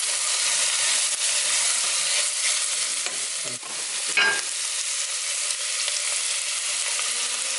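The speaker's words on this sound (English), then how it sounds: "Okay, garlic goes in, a little stir." Minced garlic sizzles and hisses steadily in a hot frying pan for moussaka, with scraping stir strokes breaking through now and then, close and loud, without talk.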